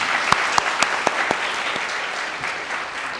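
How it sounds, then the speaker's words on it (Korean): Crowd applause at a university presidential candidates' public debate, steady and sustained, with a few sharper claps standing out near the start; no one speaks. "박수 부탁드립니다"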